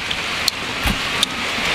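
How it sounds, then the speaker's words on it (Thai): Steady rain falls outdoors as a constant hiss, broken by a few sharper drops and splats hitting a nearby surface. "ตอนนี้ฝนก็ตก"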